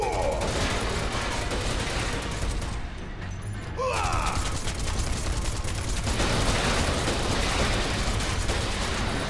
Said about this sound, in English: Obviously, gotta shoot all the boxes.